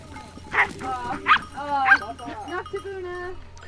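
Shepherd's dogs bark in a few sharp, separate yelps near a flock of sheep and goats, with bleating animal calls and people talking faintly underneath.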